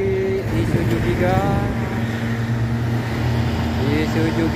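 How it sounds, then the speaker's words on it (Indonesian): A heavy Isuzu Giga tanker truck overtakes on an uphill road, its deep diesel engine droning steadily and close alongside other traffic, with a horn-like tone sounding briefly near the start and again near the end. "Terus menyusul truk tangki Isuzu Giga."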